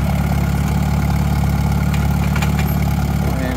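An Allis Chalmers Model CA tractor engine runs steadily in first gear, a close, loud, even chugging rumble with a constant low throb throughout, without speech.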